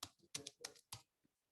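Someone types on a computer keyboard, writing text in a Microsoft Word document: a quick, uneven run of crisp key clacks, close and quiet, ending with a softer tap and no talk.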